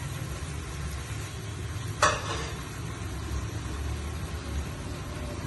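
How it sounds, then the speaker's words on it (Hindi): Tomatoes dropped into minced meat with peas frying in a pan, a sharp sizzling burst over a steady low background hiss, up close and without talk. "अब हम टमाटर डाल देंगे।"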